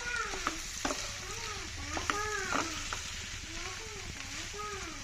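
Beef boti being mixed and stirred in an oily pan, a steady sizzle with intermittent scraping strokes of a spatula; faint background tones.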